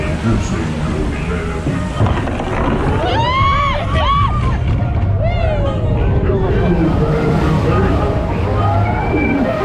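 Riders scream in a drawn-out, rising chorus at mid-distance during a drop on Splash Mountain, a log-flume ride at Magic Kingdom, over steady crowd babble and the rushing noise of the ride.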